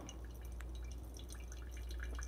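Hot water pours over a V60 pour-over coffee brewer in a gentle trickle, a soft, steady dripping and splashing heard close and quiet, with no voices.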